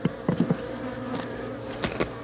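Swarm of honeybees buzzing loudly and steadily around a Ross Rounds hive box being checked, close by, with a few knocks and thumps of handling the equipment.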